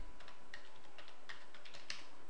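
Fingers typing on a computer keyboard, a quick run of light, close clicks with a few sharper keystrokes standing out, quiet and without talking.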